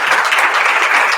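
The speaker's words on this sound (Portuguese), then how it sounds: "eu queria propor uma salva de palmas aqui para o Caio" An audience applauds an award winner named Caio at a prize ceremony, a dense burst of loud clapping that holds steady and close for its whole short length.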